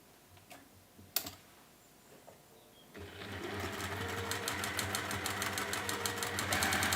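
A sewing machine starts after a few quiet seconds and runs steadily, stitching a line along pieced fabric for a quilt block, a close, rapid, even mechanical clatter that builds slightly in loudness.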